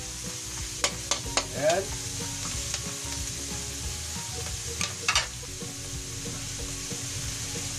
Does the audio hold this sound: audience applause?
no